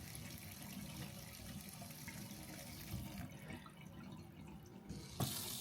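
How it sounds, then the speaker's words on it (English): Water from a touchless RV faucet runs steadily into a sink, a continuous close splashing stream at moderate level, shifting in tone near the end as the flow changes. "You just wave your hand right here and the water turns on and off."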